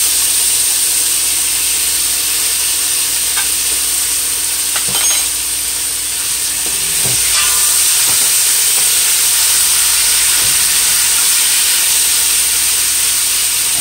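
Shrimp chow mein stir-frying in a hot pot, a constant loud sizzle and steamy hiss with occasional scrapes and clanks of stirring.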